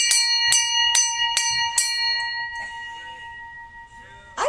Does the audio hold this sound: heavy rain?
no